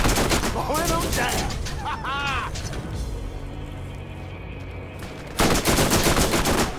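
Bursts of rapid automatic gunfire from the video game Borderlands, loud and dense at the start and again near the end, with a quieter mechanical stretch in between and a voice talking over parts of it.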